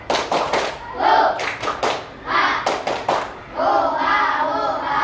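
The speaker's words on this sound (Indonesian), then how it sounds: "Tepuk semangat." Group rhythmic spirit clap at a teachers' coaching session, short bursts of sharp, synchronized hand claps in repeating patterns, with voices chanting and calling between the clap groups.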